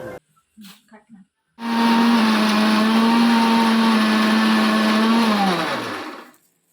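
A kitchen mixer grinder blends ingredients for a quick chicken dish, starting with a sudden steady loud whir that holds for about four seconds and then winds down, after a few faint knocks.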